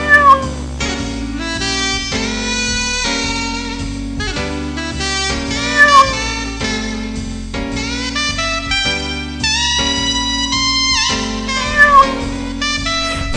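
A cartoon cat meows repeatedly in bright, tonal cries, several distinct calls spread over a longer stretch, close and prominent with no voices over them.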